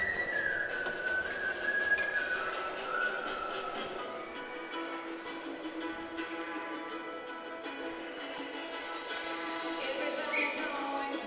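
A referee's whistle stops play in a women's ice hockey game at the Canada Winter Games, a shrill tone near the start that fades out under steady arena crowd noise and commentary.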